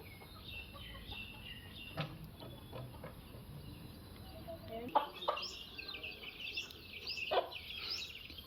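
Chickens and chicks cluck and chirp in a busy outdoor farm setting in Kadapa, soft calls scattered throughout with a few sharper, louder bursts near the end.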